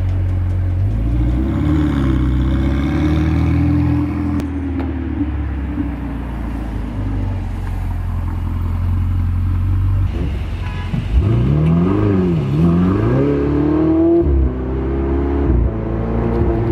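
Ferrari supercar engine heard from inside the cabin while driving on the Las Vegas Strip, a steady loud rumble that swells into a sweeping rev partway through, with brief faint talk underneath.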